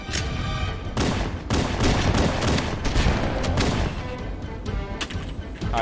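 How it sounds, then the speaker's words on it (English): A grenade explosion in the video game Halo: Combat Evolved, with a loud, dense roar of blasts and crashing debris amid continuous gunfire that stays heavy for several seconds. "Eat this grenade."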